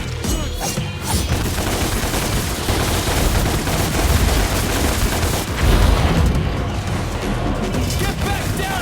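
Player gunfire in DmC Devil May Cry, a dense barrage of rapid shots and booming impacts over loud game effects, near and continuous, with voices talking over the fighting.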